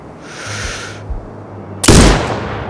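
A single loud sniper rifle shot rings out with a sharp crack and a decaying tail in Sniper Ghost Warrior Contracts 2, preceded by a brief soft hiss and low rumble.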